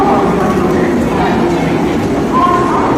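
A train passes close by with a loud, continuous rumbling roar that holds steady throughout, while people talk over the noise.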